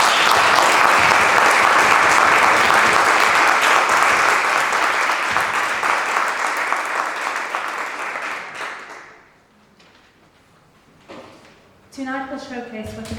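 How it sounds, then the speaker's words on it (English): A round of applause for a speaker at a multi-club joint meeting, full and steady at first, thinning out and fading to near silence before a voice resumes speaking. "Let's just give him a round of applause."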